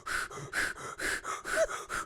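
A person imitates panting while cycling with fast, rhythmic breaths, about nine quick in-out puffs at close range, with no other sound.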